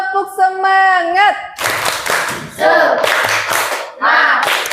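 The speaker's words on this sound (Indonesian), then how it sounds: "Tepuk semangat." A classroom of students in a science lesson does a rhythmic 'tepuk semangat' spirit clap. A short sung chant leads into several loud, close bursts of clapping with voices mixed in.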